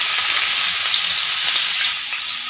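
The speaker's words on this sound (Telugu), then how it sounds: "ఇప్పుడు ఆయిల్ హీట్ అయిన తర్వాత ముందుగా ఈ ఉల్లిపాయ ముక్కలు వేసేసుకోండి." Onion pieces hit hot oil in a kadai and fry with a loud, continuous crackling hiss, close and steady, easing slightly near the end, with no one speaking.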